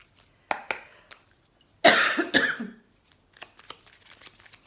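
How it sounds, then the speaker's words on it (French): Two rough, harsh coughs close to the microphone, a burst followed by a second, then quiet rustling and light tapping. "Excusez-moi, je tousse encore"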